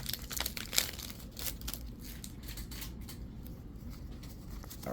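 Trading card booster packs from a Round 2 first-edition Powerline Ultra box are torn open, with quick crinkly ripping and rustling of foil wrappers, fairly close and without speech.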